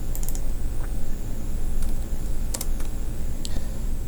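Keys on a computer keyboard are typed while network settings are entered, with a few scattered sharp clicks, a spacebar press among them, over a steady low background hum.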